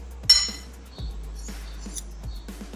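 A spoon mixes cream and mango jam in a glass bowl, with a few light, close clinks against the glass and soft scraping in between, quiet overall.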